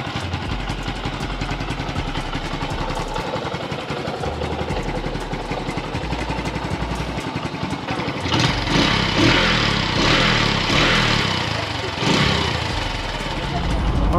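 A motorcycle engine idles steadily after being started, a continuous low chugging rumble that grows slightly louder partway through, with a voice speaking over it.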